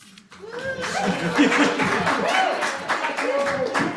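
An audience bursts into clapping at the opening of a live show, a crowd of hands mixed with scattered laughter and chuckles, fairly close and steady for a few seconds.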